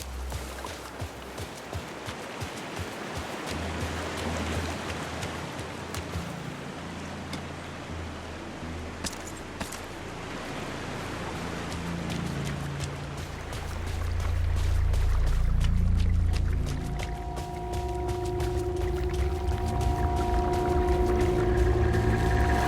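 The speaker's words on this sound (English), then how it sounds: "Okay, I found the creek." Creek water flowing in the video game Alan Wake II, a rushing, splashing wash that swells louder midway before tonal game sounds rise in the latter part.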